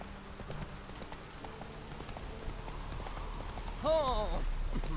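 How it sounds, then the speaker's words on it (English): Hooves clip-clop steadily as a horse gallops through rain in The Witcher 3, faint and continuous, with a short brighter game sound near the end and a voice talking over it. "Giddy up. Away we go, Roach"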